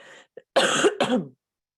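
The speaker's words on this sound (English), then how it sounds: "I'm sorry to just cough in your ear" A sharp cough bursts out twice in quick succession, close and loud, after a small faint throat sound and a moment of quiet.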